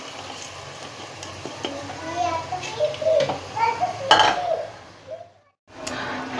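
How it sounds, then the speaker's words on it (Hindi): Ground garam masala with nutmeg, mace and cardamom gets stirred into chicken in a pot for degh-style shahi korma. A spoon scrapes and clinks softly against the metal with faint sizzling, while voices murmur in the background. "अब ये मसाला हमने ब्लेंड किया है, अभी इसमें मिक्स कर रहे हैं।"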